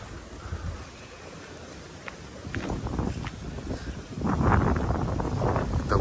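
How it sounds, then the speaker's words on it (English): Strong wind buffets the microphone beside a large bridge in the Florida Keys, with gusts building and waves rushing in, loud and rough toward the end. "The waves, it's very windy. The waves have been crashing up here."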